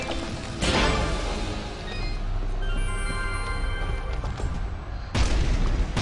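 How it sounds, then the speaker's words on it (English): Enemy cannons firing in the side-scrolling action game Dust: An Elysian Tail: a heavy boom opens, then a sustained rumbling barrage with layered game music, and a second loud booming blast near the end. "Those enemy cannons are far too powerful."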